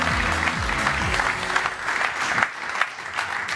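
Audience applause for a candidate at a London pitch event, a dense, steady wash of many hands clapping, fairly close and loud throughout, with music or low tones underneath at the start.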